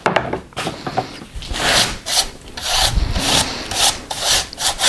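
A file is worked back and forth over wood to take off burrs during bench assembly, with close, rhythmic rasping strokes, about a dozen in quick succession.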